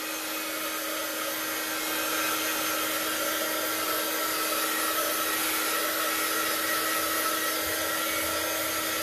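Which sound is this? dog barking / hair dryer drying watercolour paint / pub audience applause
hair dryer drying watercolour paint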